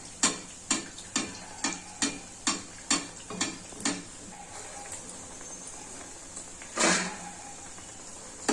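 Pakoda batter made with toor dal flour sizzles in hot oil. A steady hiss runs under a series of evenly spaced ticking pops, followed by a louder burst of frying.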